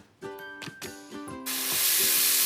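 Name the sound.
food sizzling while cooking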